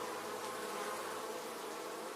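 Honey bees buzz steadily around their nest, a continuous, even drone with no breaks or other sounds.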